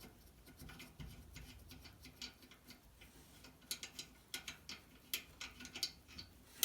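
A socket wrench ratchets a fitting loose on a GE gas dryer, with quick, uneven metallic clicks in bursts that grow sharper and denser toward the end, faint and close.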